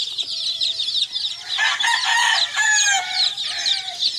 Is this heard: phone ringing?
no